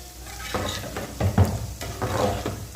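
Chopped onion and garlic sizzle in hot oil for kadhi, a steady frying hiss broken by stirring scrapes and knocks of a utensil against the pan, close and alone with no voices.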